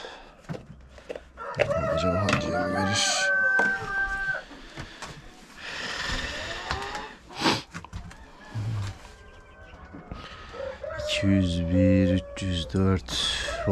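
Young hens cluck and call in a backyard chicken coop, clustered bursts rising and falling at close range, with people talking intermittently in between.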